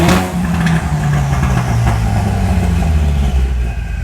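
A Ford Ranger EcoBoost pickup launches hard for drag racing, engine revving loud and close with a rising pitch through the gear as it accelerates away.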